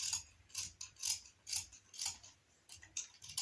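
Steady, rhythmic scissor snips cut fabric for a manteau, about two sharp close cuts per second, alone with no talking.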